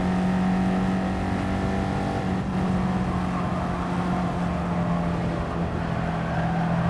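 A race car engine in Gran Turismo 7 drones at steady high revs with a sustained tonal hum and rushing noise, loud and continuous throughout, with no voices.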